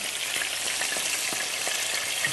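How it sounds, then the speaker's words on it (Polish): Food sizzles in a covered frying pan on the stove, a steady bright hiss broken by small pops and crackles, heard up close with no talking. "No jeszcze musimy chwilę posmażyć, to żeby nam się przepiekło."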